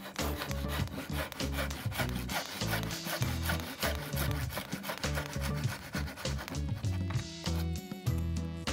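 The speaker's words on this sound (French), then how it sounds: "Sciez le tenon à angle droit par rapport à votre coupe." A hand saw cuts a wooden tenon square to the shoulder line in a woodworking joint, with continuous rhythmic back-and-forth rasping strokes, close and loud, without speech.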